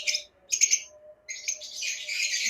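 Lovebirds on a bird farm give bright, high-pitched chirps and squawks in short bursts at first, then a longer continuous run of chattering calls, close and fairly loud.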